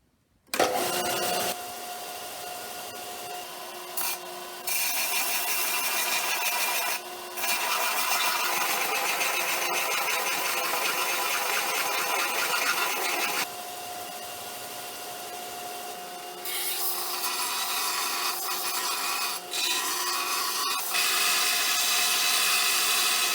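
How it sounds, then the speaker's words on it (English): A belt sander whirs at a high, gritty pitch, starting and stopping several times, grinding steadily against rough-cut wood edges up close. "I'm going to use the belt sander to help clean up these rough edges"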